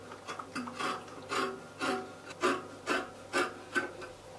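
Scissors crunch through dress fabric in a steady rhythm of about eight close, even cuts as the back neck of a halter neck flare dress is cut out.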